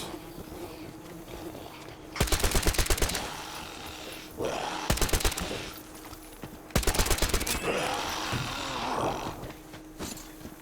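Three bursts of automatic gunfire from a weapon in Metro Exodus, each a sharp rapid string of close loud shots separated by pauses, with grunts and ambient noise between.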